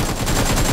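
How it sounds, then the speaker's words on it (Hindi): Loud, dense automatic gunfire in a shooting video game, a continuous rapid burst of shots filling the whole moment with no talk. "जस्सी की फायरिंग कर रहा है"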